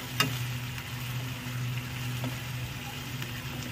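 Minced keema with chopped chilies frying in hot oil, giving a steady low sizzle with soft crackles and a brief clatter early on, close and moderately quiet, with no talking.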